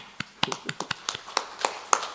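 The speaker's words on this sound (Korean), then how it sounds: "박수도 한번 치실래요?" Scattered, sparse hand claps from a small indoor audience, about a dozen separate sharp claps spread unevenly, fairly faint and without a steady rhythm.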